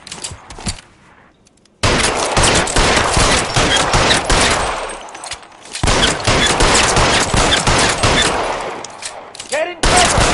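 Dense automatic gunfire and rapid shots from a PS4 shooter game ring out loud and nearly continuous in two long bursts, with a short quieter gap and faint voices underneath.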